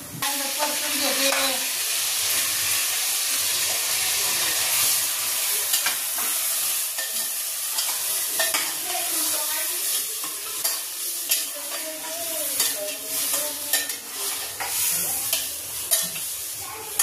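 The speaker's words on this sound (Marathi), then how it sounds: "आता मटण टाकीचे" Mutton stirred into browned onions in a hot pan for a spicy village-style curry, giving a steady loud sizzle and hiss with repeated scraping and clinks of the spoon throughout.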